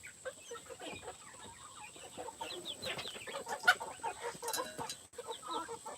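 Small rough-looking chickens clucking close by in a coop, busy overlapping clucks and chatter running steadily throughout with a faint hum behind them.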